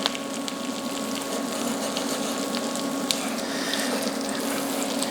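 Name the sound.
crab cake frying in a small pan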